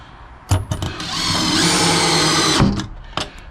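Power drill driving small 1.5 epoxy screws to mount D-rings inside an enclosed trailer, with a few quick clicks and knocks, then a steady whirring burst of about one and a half seconds, followed by more handling knocks.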